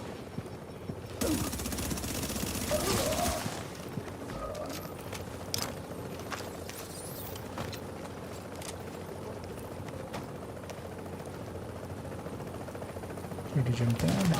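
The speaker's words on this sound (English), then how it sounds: "Some shooting." Gunfire in the shooter game The Division crackles in quick bursts and scattered shots, fairly faint and mixed under someone talking over the action.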